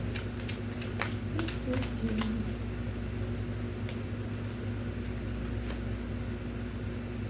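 Tarot cards being shuffled by hand, a soft papery riffling and patting that repeats through the clip over a steady low room hum, with no voices.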